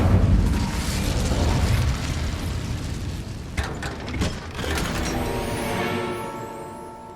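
The Incendio fire spell goes off in Hogwarts Legacy as a loud roaring whoosh of flame with bursts and crackles, a few sharp pops in the middle, then a steady rumble that fades out.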